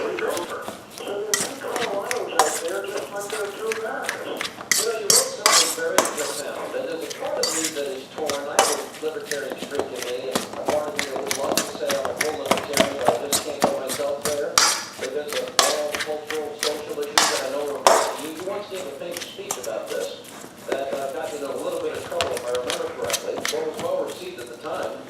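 Meatball ingredients with oregano and garlic being mixed in a bowl, giving steady clattering and scraping against the bowl, close and busy throughout, with a voice speaking over it.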